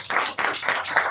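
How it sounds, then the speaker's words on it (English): Applause from a seminar audience at a World Financial Planning Day celebration, dense clapping swelling in several pulses over about a second, near and fairly loud. "So a big round of applause for all of you."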